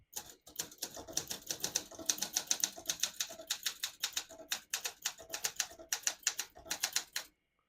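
Typing on a 1971 Olympia SM9 vintage portable typewriter: rapid, crisp key strikes come in uneven bursts with brief pauses, close and clear, and end abruptly.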